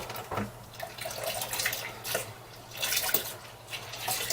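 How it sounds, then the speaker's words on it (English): Cold water runs from a water filter into a homebrew fermenter, splashing and gurgling in uneven surges close by, with brief louder bursts as the stream shifts, no speech over it. "I'm going to top it up with cold water now"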